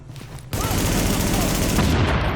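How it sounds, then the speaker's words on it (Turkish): A loud, sustained blast of grenade explosion and gunfire in the video game The Division roars in after a brief moment of quieter background noise, filling the rest of the clip. "Sırtındaki bombası patladı, el bombası patladı."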